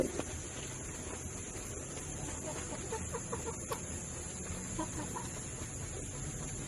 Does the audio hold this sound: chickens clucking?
yes